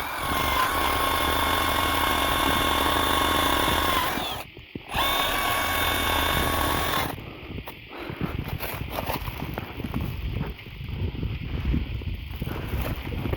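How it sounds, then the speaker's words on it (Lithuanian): A power drill bores holes in wood in a garage, giving a steady, close, loud whine for about seven seconds with a brief stop midway, then rougher, uneven grinding bursts. "O, biškį grąžtas."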